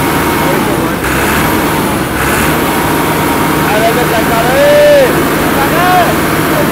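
A new 2025-model tractor engine runs with a loud, steady drone close by, with a few brief rising whines over it and faint voices underneath.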